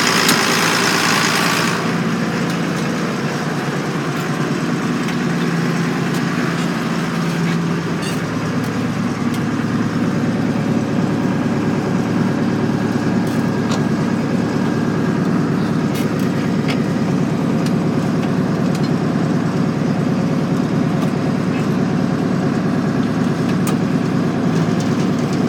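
Allis Chalmers 200 tractor engine running in gear with the PTO engaged, a loud steady low diesel rumble that holds constant throughout with no voices.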